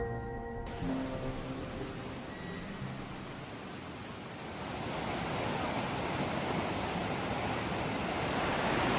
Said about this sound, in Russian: Слышите шум воды?